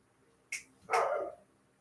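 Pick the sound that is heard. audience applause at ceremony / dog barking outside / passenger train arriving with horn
dog barking outside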